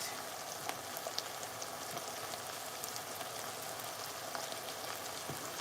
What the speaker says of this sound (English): So here I have all my onions, my garlic, my ginger, and this is just marinating in the oil.